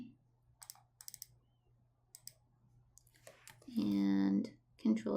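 Computer mouse clicking in quick pairs while editing in Photoshop, sharp faint clicks scattered through the first seconds, then a burst of speech near the end.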